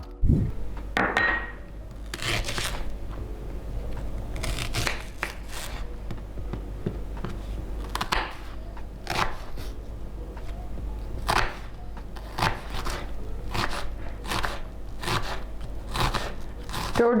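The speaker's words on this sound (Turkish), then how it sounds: "gördüğünüz gibi minicik doğruyorum soğanları da" A knife taps repeatedly on a cutting board while finely chopping onion, in quick, uneven bursts, crisp strokes close by with short pauses between runs.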